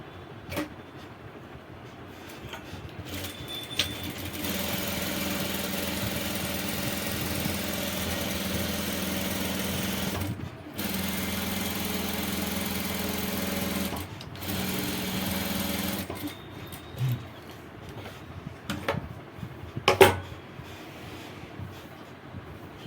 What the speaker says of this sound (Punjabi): ਬਸ ਹੁਣ ਇਹਨੂੰ ਆਪਣੇ ਸਲਾਈਓ ਕਰਨਾ ਹੈ